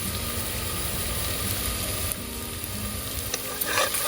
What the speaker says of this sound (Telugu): ఇది మంచిగా కలుపుతూ ఉండాలి